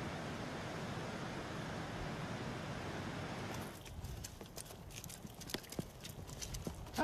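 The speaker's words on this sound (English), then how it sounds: "Donkeys now take over, carrying the jade for 3 days to the nearest road" Pack donkeys carrying loads of jade along a trail, their hooves clip-clopping in an irregular walking rhythm at moderate distance, preceded by a few seconds of steady broadband rushing noise.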